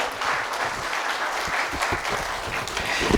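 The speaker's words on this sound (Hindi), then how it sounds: "तो एक बार ताली बजा दें, फिर हम आगे चलते हैं।" An audience claps continuously in a hall after a Hindi-language talk, producing a steady, fairly loud wash of applause with no voices over it.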